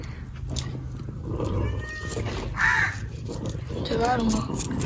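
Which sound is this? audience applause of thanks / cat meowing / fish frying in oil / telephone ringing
cat meowing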